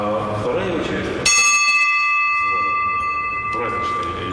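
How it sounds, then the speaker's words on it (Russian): The largest church bell, the blagovest, strikes once with a loud, bright clang whose ringing overtones sustain and slowly fade, while someone talks just before the strike and again as the tone decays. "Самый большой колокол. Это называется благовестный."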